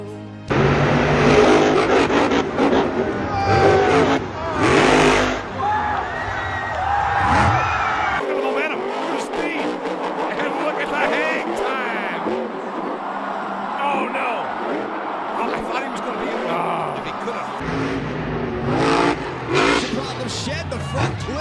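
Monster trucks rev and race at a show, loud engine roars and revving bursts with crowd noise and commentary-like voices mixed throughout.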